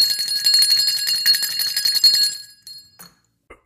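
A bell rings in rapid, bright repeated dings for a couple of seconds, then stops and leaves a few faint clinks.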